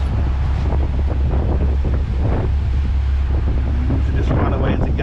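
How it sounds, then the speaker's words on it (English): Wind gusting across a moving boat on a tidal creek in winter, a constant loud rumbling buffet on the microphone with faint water wash and occasional quiet voices underneath. "The breeze is back with us."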